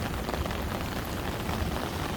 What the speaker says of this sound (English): It's raining in the morning. It's storming.